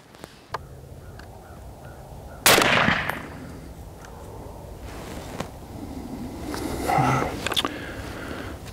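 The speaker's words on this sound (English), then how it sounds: "First time shooting the dead air Sandman-s military contract FDE with the Desert Tech MDRX." A Desert Tech MDRX rifle fitted with a Dead Air Sandman-S suppressor, military contract FDE, fires a single sharp suppressed shot outdoors with a brief decaying echo, amid light background noise and small handling clicks.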